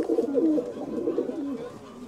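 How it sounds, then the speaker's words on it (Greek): Pigeons coo repeatedly in a loft at a display-pigeon festival on Salamina, a steady close chorus of low throaty calls overlapping throughout. "Εδώ μέσα έχει τα πουλιά."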